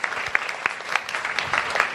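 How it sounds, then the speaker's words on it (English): A studio audience claps steadily for about two seconds, a dense, even patter of many hands with faint voices underneath. "Let's give Stephanie a round of applause."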